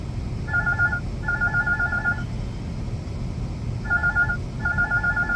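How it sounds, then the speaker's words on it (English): A phone rings with an incoming call in two double bursts of electronic ringing, moderately loud over a steady low background hum. "I'm getting a phone call in the middle of this video, which is a little strange"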